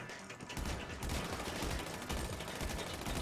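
Rapid, dense gunfire from a GTA 5 Online firefight at a harbor, loud and close, with bursts of shots running together almost continuously after a brief quieter opening.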